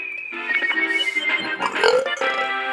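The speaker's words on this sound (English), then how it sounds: "Yeah, that was kind of a weak burp" A weak burp plays in the Super Mario 64 video game, a short, feeble eructation amid bright, tonal game sounds and jingles.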